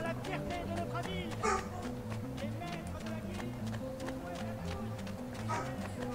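An excited dog barks repeatedly in Assassin's Creed 2 during a city festival scene, with quick, energetic yips over background game music and ambient noise, while a commentator talks over the action.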